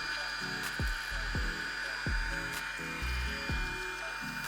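A 2-in-1 blow styler straightening long hair gives a steady airy motor whir, fairly quiet and close, with soft rhythmic low thumps as the brush passes through the strands, and no talking.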